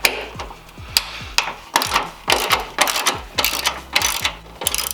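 A hand ratchet clicks in quick repeated bursts while turning bolts on an Infiniti G35 hood hinge, sharp metallic pawl ticks in rapid strokes with brief gaps between each pull.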